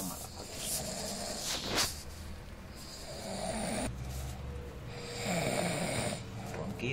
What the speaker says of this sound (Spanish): Ronquidos.